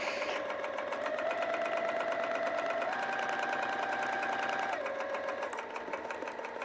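A sewing machine stitches straps in a steady, rapid mechanical whir with a fast needle rhythm, its pitch stepping up and down slightly as the speed changes, running continuously close by.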